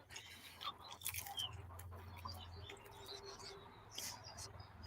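Crispy fried Wingstop chicken wings bitten into, a few crisp crunches near the mic in the first half, with faint bird chirps in the background and no talk.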